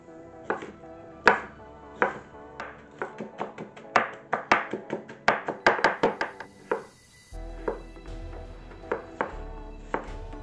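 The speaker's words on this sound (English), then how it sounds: "Now for my tartare, I'm going to need to cut up some jalapeno, some scallion, avocado, and of course tuna." A knife chops jalapeno, scallion, avocado and tuna for tartare on a cutting board, a run of crisp, close taps in irregular bursts that quicken into rapid clusters, then slower single cuts, no talk.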